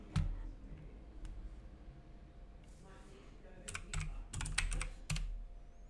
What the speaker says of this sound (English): Look at this mechanical keyboard.